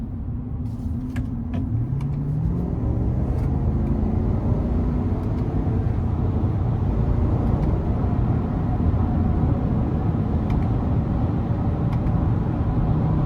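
A 2023 Chevrolet Silverado 1500 ZR2 with the 6.2 V8 and 10-speed automatic drives along with a steady, loud engine and road rumble, the engine tone briefly climbing and dropping as the transmission shifts early on.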